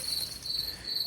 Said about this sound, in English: The crickets hum around you, steady and soothing